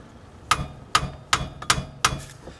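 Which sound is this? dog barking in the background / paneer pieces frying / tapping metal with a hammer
tapping metal with a hammer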